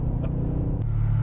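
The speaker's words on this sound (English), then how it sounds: "The engine certainly makes some beautiful, beautiful noises." Low rumbling drone of a 2003 BMW E39 M5 V8 engine under load, brief and steady, heard from within the car without talk.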